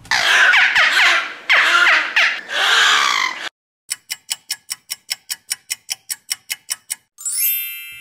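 A beluga whale at a zoo lets out several seconds of high, squeaky whistles and chirps in bursts, followed by a steady clock-like ticking.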